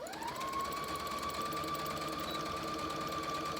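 Sewing machine running continuously over fabric in a seal toy craft project, a steady close mechanical whir with a sustained tone throughout and no talk.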